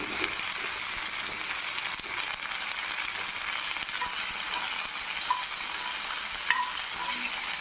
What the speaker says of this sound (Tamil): எல்லாத்தையும் போட்டு வதக்கிக்கணும் அதோடு அதுவே சேர்த்து கட் வச்சுருக்கிறோம் இந்த கலாக்காயும் போட்டுக்கலாம்